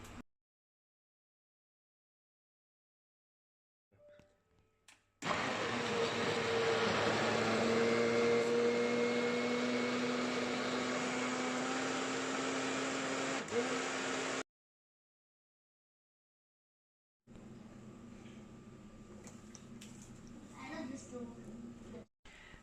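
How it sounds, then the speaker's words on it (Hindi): A kitchen mixer grinder blends peeled oranges into juice, a loud steady whirring motor run of about nine seconds after a brief lead-in, then quieter handling noise. "और मिक्सी भी रेडी है तो इसे ब्लेंड कर लेती हूँ फटाफट।"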